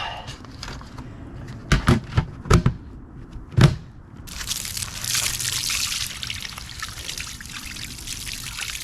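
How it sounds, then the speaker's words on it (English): Water pours to rinse kerosene off an engine part: a few sharp knocks and splashes come first, then a steady close trickling stream runs on without talk. "I'm going to rinse this one off with some water"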